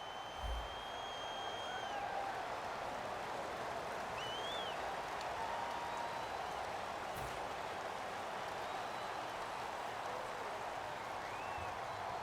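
A football stadium crowd at an Eagles versus Texans game roars in a broad, sustained wash of noise, steady and loud throughout, with a few faint whistles and tones rising above the din.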